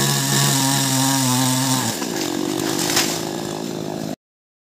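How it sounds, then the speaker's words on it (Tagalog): A cheap chainsaw clearing trees on a farm drones steadily, then its pitch drops as the chain bites into wood, grinding on loudly for about four seconds before cutting off abruptly. "bumili na lang kayo ng sariling chainsaw"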